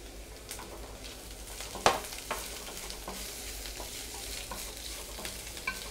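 Curry leaves and onion crackle in hot oil as a tempering for zucchini raita, a steady close sizzle broken by several sharp scraping clacks of a spoon against the pan, no speech.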